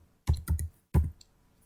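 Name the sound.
typing a command on a computer keyboard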